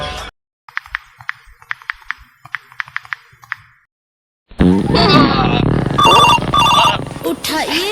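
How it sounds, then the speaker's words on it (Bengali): A phone rings with an incoming call in a comedy sketch, a short repeating ringtone chiming in bursts near and clear, then loud music-like sound and voices take over after a pause. "এই সময় কেন ফোন দিল"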